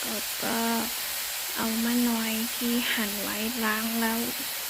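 Meat stir-fried in a pan sizzles with a steady broadband hiss while someone talks over it almost throughout, during a dinner cooked at a temple.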